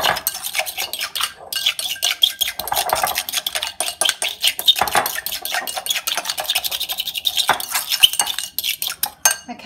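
Egg being whisked in a bowl for a Weightwatchers-friendly bhaji, a fast steady clatter of utensil against the bowl running throughout, close and fairly loud, with no talking over it.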